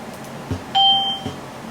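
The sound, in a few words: computer playing ding sound file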